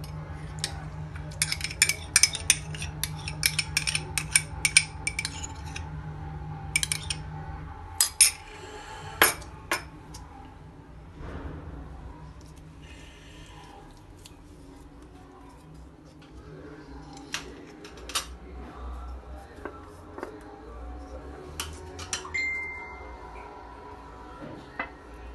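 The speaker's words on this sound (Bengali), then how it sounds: "এখন জিরা গুঁড়া, পেঁয়াজ, নারিকেলের দুধ ছাড়া বাকি উপকরণ দিয়ে ম্যারিনেট করে 3 ঘন্টা রেখে দিব।" Spice containers knock and clink again and again while spices go into a marinade, giving sharp scattered taps close by, some in quick bursts, with a low hum underneath that stops partway through.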